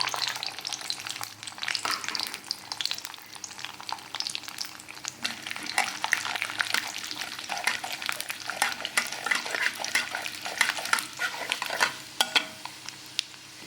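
Curry leaves crackle and spit in hot oil for a spicy potato fry, a busy, close sizzle with scattered pops and the occasional scrape or clink of a utensil against the pan, no one talking.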